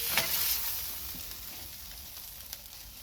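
A smash burger patty sizzles steadily on a hot griddle, a dense close hiss with a few faint scrapes and pops, no talking.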